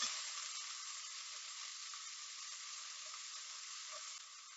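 Beef steak sizzling and frying in a hot pan for a stew, a steady, close hiss that holds evenly throughout and eases off slightly near the end, with no voices.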